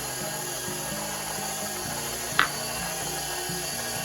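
A stand mixer churns St. Louis gooey butter cake batter with flour, milk and yeast mixture, a steady low mechanical whirring with a rhythmic clicking pulse throughout and one brief sharp knock near the middle.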